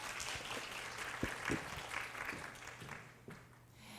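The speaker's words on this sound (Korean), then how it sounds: "다시 한번 조선희 변호사님께 큰 박수 부탁드리겠습니다" Applause from the audience at a university startup forum after a lawyer's talk, fairly quiet and thinning out, with scattered distinct claps and a faint low hum underneath, fading toward the end.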